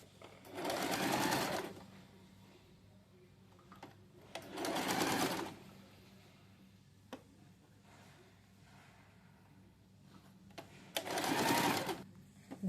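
A sewing machine stitches dhoti salwar fabric in three loud bursts of rapid whirring, each lasting one to two seconds, separated by quiet pauses with faint handling noises.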